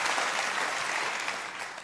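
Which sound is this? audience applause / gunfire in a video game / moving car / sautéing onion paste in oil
audience applause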